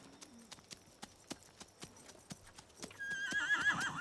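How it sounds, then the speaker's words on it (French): A horse's hooves clip-clop in an even, spaced rhythm, followed by a loud neigh near the end, clear and close with no talk over it. "Tu l'entends hennir?"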